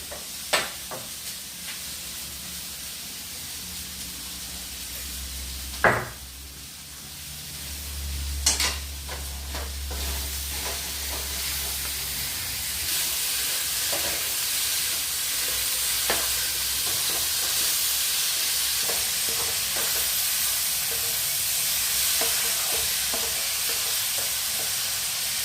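Ivy gourd stir-fry sizzling in a pan during simple home lunch preparation, with steady frying hiss, a couple of sharp knocks early on, and scattered scraping stir strokes building into a denser sizzle toward the end.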